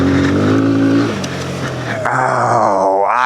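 A small motorcycle, either a Honda Grom or a Kawasaki Z125, revs loud and close in first gear on a run-up off-road, with its pitch climbing, dipping and then rising sharply again.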